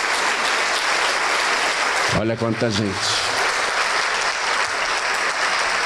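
A church congregation claps continuously, a broad steady wash of applause while someone briefly speaks over it.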